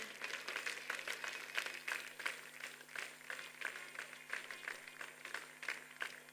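A crowded hall breaks into sustained applause for panelists returning to their seats, dense and steady clapping from many hands at moderate distance, without speech.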